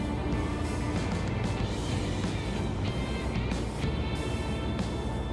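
Continuous road noise heard from inside a car moving along a rural Kansas road, a steady low rumble of tires with broadband hiss, loud and unbroken.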